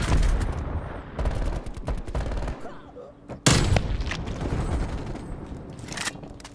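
A nail gun fires nails in a video game in several sharp, loud bursts, some quick and rapid, separated by short gaps, with one especially strong blast midway.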